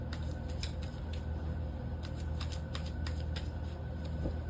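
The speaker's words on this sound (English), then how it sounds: "At least y'all can hear the shuffling, right?" Tarot cards shuffled in a quick, crisp run of riffling bursts, close and fairly quiet, with brief pauses between clusters of flicks and no talking.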